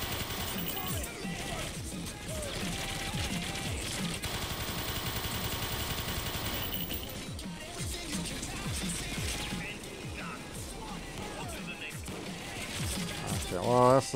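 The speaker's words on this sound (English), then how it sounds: "the bots do not know how to handle the turrets at all." Automatic turret gunfire in Payday 2 during a White House heist, a dense continuous rattle of shots layered with crashes and game noise that runs steadily for the whole stretch, with people talking over it.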